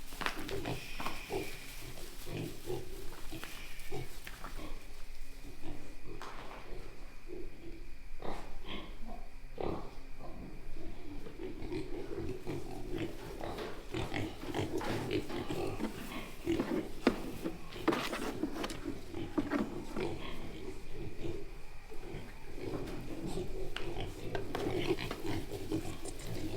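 Pigs and piglets woken at night in their pen, grunting and oinking continuously at close range, with rustling and stirring among them.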